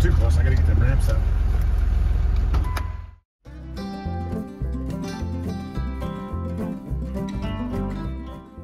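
A big lifted pickup truck's engine runs with a loud exhaust, a heavy rumbling roar that cuts out briefly and then settles into a steady, throaty idle close by.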